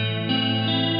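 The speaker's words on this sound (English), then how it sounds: "I just basically put a clean guitar tone, and I put a tiny bit of gain on it, a lot of reverb on it, and some chorus on it" An electric guitar with a clean tone, a touch of gain, heavy reverb and chorus, sustains a shimmering chord that rings on evenly for about a second with a slight swell partway through.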